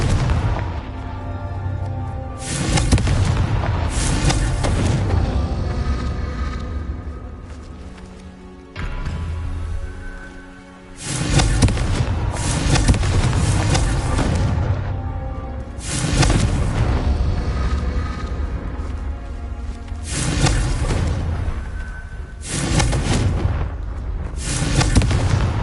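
Repeated blasting-spell explosions in a Harry Potter-style video game: five or six loud booming bursts in close succession, each a broad crash with a rumbling tail, with a short lull between groups and no talk.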